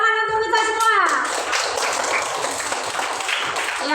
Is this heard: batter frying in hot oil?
no